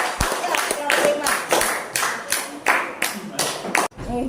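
Classroom applause for a student group presenting a science observation: rapid, uneven hand claps close by, with voices mixed in under the clapping and a sudden stop near the end.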